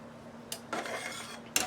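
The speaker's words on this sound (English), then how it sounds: "I'm stirring my giblets." A metal spoon stirring giblets in a pot for homemade soup, a couple of quick scraping clinks against the pot with a short rubbing swirl between them, close and fairly quiet.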